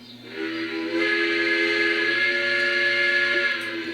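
A Lionel model train whistle, triggered from the CAB-3 app, sounds as a single sustained steam-style chord, rising in quickly, holding steady and loud for about three seconds, then trailing off.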